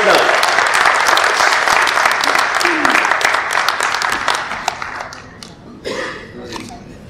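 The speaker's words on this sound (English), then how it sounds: "Ladies and gentlemen, please give a big round of applause to हमारे अपने राजीव वैष्णव" Loud, dense audience applause fills a panel discussion event hall, holding steady for several seconds before tapering off into scattered claps and faint room sound.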